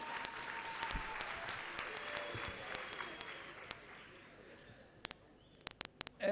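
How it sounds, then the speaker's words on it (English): Round of applause at a community colleges programme launch, a fairly faint, distant patter of clapping that thins out, with scattered sharp claps and clicks near the end. "When I ask that we give them a big round of applause, let's do so, please."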